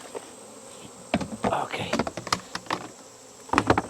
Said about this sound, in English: Knock those bees off.